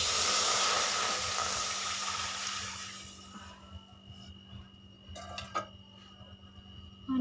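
Water heats in a wok (kadai) for boiling eggs, giving a loud, steady hiss that fades after a few seconds, followed by a few faint clinks and soft kitchen sounds.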